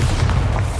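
Bombarda explosion spell in the Hogwarts Legacy video game, a short loud booming blast with a crackling rumble that fills the brief moment.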